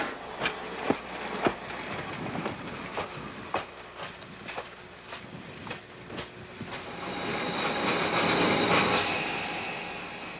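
Algoma Central Railway train hauled by three GP38 locomotives with four cars rolls past, wheels clicking over rail joints in a rhythmic clickety-clack, then a rising engine rumble and rushing noise build as it draws closer.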